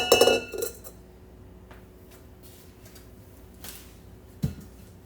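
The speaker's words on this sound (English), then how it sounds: "I'll just get everything off of my spatula here" Pound cake batter scraped off a spatula into a baking pan: a loud clatter of utensil against pan at the start, then quiet with a few faint taps and one sharper knock near the end.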